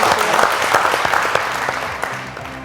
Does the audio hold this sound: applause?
yes